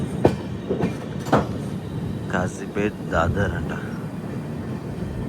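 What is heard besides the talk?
Telangana Express train running on rails, LHB coaches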